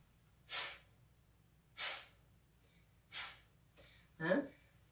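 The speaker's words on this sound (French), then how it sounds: "Tu peux faire des expirations forcées par la narine." Four sharp, forceful exhalations through the nostril, evenly spaced about a second apart, then a final snort-like breath, close and clear against a quiet background.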